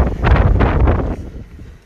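Strong wind buffeting a drone flying outdoors along a disused railway line, a loud roaring gust that rumbles over the microphone, then eases and fades near the end.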